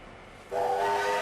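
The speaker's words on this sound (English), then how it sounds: "Hear that loud noise, that train whistle?" A loud steam train whistle in the video game Sniper Elite V2 blows in abruptly after a quiet hiss, holding one sustained shrill tone to the end.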